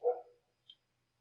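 One short, faint bark from a dog, then silence broken only by a tiny high chirp.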